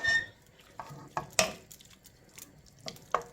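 A spoon stirs konjac pasta with tuna in a cream sauce, soft wet scraping and occasional light clinks against the pan arriving in short, quiet bursts with gaps between.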